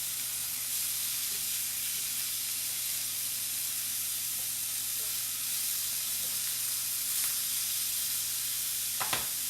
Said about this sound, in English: And this is what I call a sear.